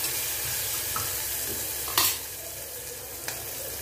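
Onions fry in a pan for tender coconut water tomato rice, a continuous close sizzle broken by a few clinks and scrapes of stirring.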